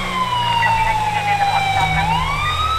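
Federal Single PA640 police siren in GTA V wails in a steady, loud rising-and-falling tone, continuous throughout and close, with a low engine rumble beneath.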